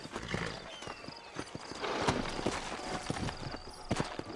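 Horse hooves clip-clop in an uneven walking rhythm over ambient noise in the video game Red Dead Redemption, with a horse whinnying briefly partway through.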